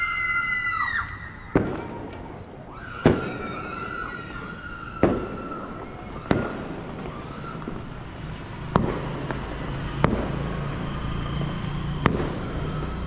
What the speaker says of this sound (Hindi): चलो पटाखे भी फोड़ रहे हैं